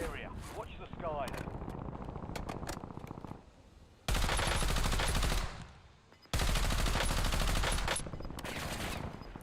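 Two loud bursts of automatic gunfire in a battle royale game, each lasting about two seconds, separated by a pause, with a voice talking before and between them.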